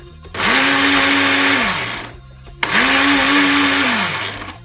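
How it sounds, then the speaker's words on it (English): A kitchen blender chops a pepper and onion mix for fish pepper soup in two loud whirring bursts of about two seconds each, each motor rising then winding down, with a short pause between them. "the first thing we're going to do is to blend the pepper and the onion mix together"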